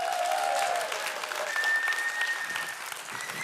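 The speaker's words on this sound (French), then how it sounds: "il est accueilli par un tonnerre d'applaudissements" Thunderous applause greets a man walking on stage during a talk about exceptional teachers, a dense, steady roar of clapping from a large audience that holds loud throughout, with faint whistles rising above it.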